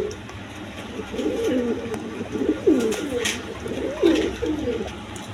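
A pair of coloured Rajgolla pigeons cooing close by, repeated soft throaty coos in a steady rolling rhythm with faint background noise.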